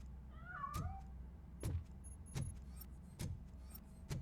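A cat meows in the video game RoboCop: Rogue City, one short rising-and-falling mew early on, followed by several heavy thuds or footsteps over a low hum.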